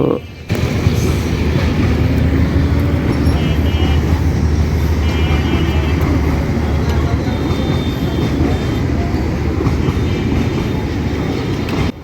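Road traffic waiting at the Ashinagar rail gate level crossing in Narsingdi town, with auto-rickshaws and other vehicles, a steady dense rumble and engine drone filling the whole stretch, loud and continuous, with voices mixed in.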